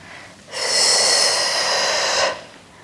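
A strong, steady exhale during an evening home workout, rushing out for nearly two seconds, close and loud, alone with no talk over it.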